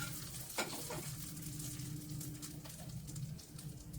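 Hot tempering sizzles steadily as it is stirred into peanut chutney, a continuous close crackle with a few brief clinks and no voices.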